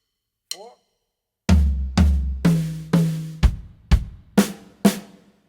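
A drum kit plays a fill that skips the mid tom, eight crisp hits in an even pattern after a brief vocal sound, each tom and drum ringing briefly, close and loud.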